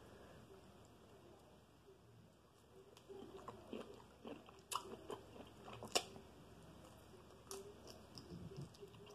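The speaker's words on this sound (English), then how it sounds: "So I'm gonna try this shrimp with this" Shrimp with sauce eaten during a seafood mukbang, soft, close bites and wet chewing that grow more frequent after a quiet start, with occasional squishy crunches.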